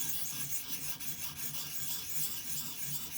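A Kershaw Shuffle knife blade being sharpened on a ViperSharp sharpening system gives repeated scraping rubs in a steady back-and-forth rhythm, close and moderately loud.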